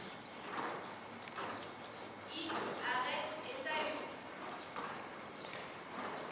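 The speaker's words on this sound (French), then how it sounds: "Le cheval est pressé presque au pas." A ridden horse moves at a hurried near-walk, with soft, muffled hoofbeats in an uneven rhythm, faint and somewhat distant against a low background.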